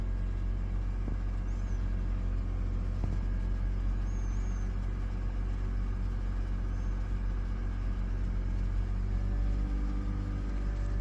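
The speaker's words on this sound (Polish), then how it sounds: "Teraz w trybie park trzeba wejść przez chwilę na wyższe obroty, żeby uzupełnić poziom leju w konwerterze." A BMW or Audi car with a ZF automatic gearbox, in park, runs at raised revs during a transmission oil top-up, giving a steady, loud, continuous engine drone with low rumble throughout.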